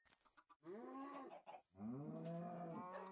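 A cow in the Minecraft video game gives a couple of drawn-out, clear moos close by, with brief clucking-like game sounds around them.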